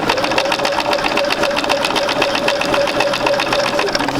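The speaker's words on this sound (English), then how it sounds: "So we're going to go ahead and sew this." A sewing machine stitches quilt block pieces for a basic sampler quilt, running steadily and loudly at close range with a fast, even mechanical chatter throughout.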